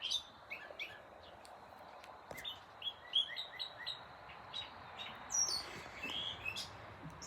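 Small birds chirp and tweet in repeated short calls around a dripping garden water bath, fairly close, with a soft outdoor hiss beneath.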